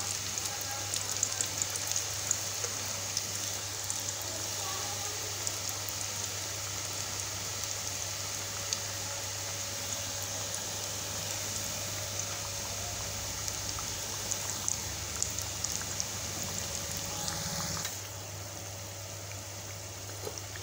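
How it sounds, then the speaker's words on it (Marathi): Pieces of wheat flour dough (kapnya) deep frying in hot oil, a steady even sizzle and crackle running throughout at moderate level with no talk, softening slightly near the end. "दुसरा एक आता आपण तळून घेऊ।"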